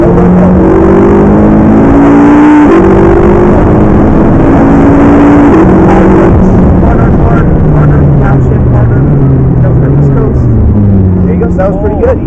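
Loud, close engine roar from a McLaren 12C twin-turbo accelerating hard, its pitch climbing and dropping through several gear changes, heard from inside the car.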